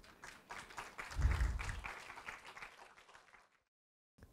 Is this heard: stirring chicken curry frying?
no